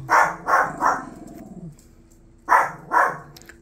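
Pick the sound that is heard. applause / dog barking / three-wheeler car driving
dog barking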